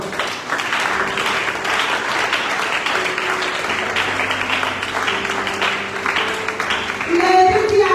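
A church congregation claps and cheers together in a sustained round of applause, loud and steady throughout, with a voice carrying over it near the end.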